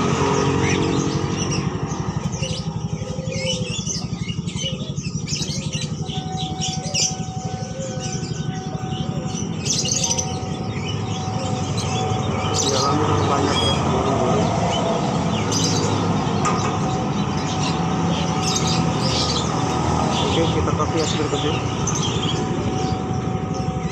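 Birds including pigeons chirp and call among constant crowd murmur and passing motorbike traffic at a busy bird market in Depok, Indonesia, with scattered bright twitters over the steady background.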